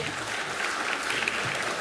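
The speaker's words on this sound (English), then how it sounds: "A round of applause for Dr. Robin Whittaker." A crowd at a research symposium applauds steadily, a dense wash of clapping at even loudness with no talk over it.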